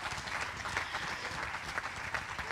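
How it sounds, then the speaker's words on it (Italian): Audience applause at an open-air summer evening lyric-music concert in a spa town, steady dense clapping throughout with no voices. "Per lei l'applauso"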